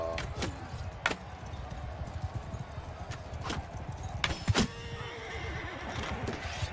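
Horses in Mount & Blade II: Bannerlord, with a clear neigh and scattered hoof clip-clops and impacts amid battle, the sounds coming close and sharp over steady background ambience.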